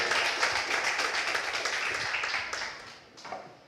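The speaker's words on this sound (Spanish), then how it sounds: "Denle un aplauso al Señor" A church congregation applauds, a dense wash of clapping that holds steady and then thins out and fades toward the end.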